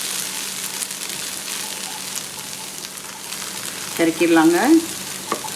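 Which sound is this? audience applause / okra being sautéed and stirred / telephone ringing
okra being sautéed and stirred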